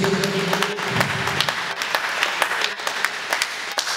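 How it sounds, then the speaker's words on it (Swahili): A church congregation claps in praise of Jesus, a dense burst of many hands clapping quickly at close range that thins out over a few seconds. "Tumpigie Yesu makofi mengi."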